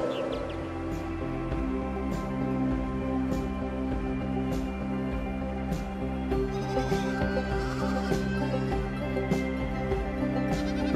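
Sheep bleating inside the video game AER Memories of Old, several calls scattered over a steady musical game ambience, moderately close and not very loud, with no talking.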